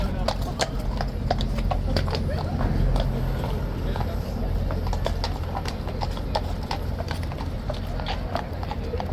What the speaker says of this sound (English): This one could be a HCAV horse.